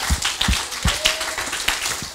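A congregation claps along during a lively church worship service: rhythmic hand claps repeat roughly every half second over a full, busy wash of room sound.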